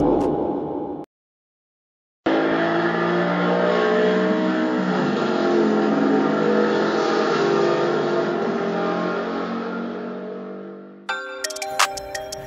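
1/32 scale slot cars racing on a track during a tournament, a sustained whirring electric motor drone with layered tones that holds steady for several seconds, then ends with clicks and rattles.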